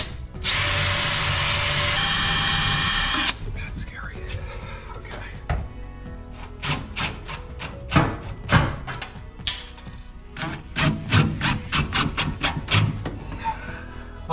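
A power drill drives screws to fasten the metal of a range hood to a custom wood hood, with one long steady whir followed by many short bursts and thunks, with people talking between them.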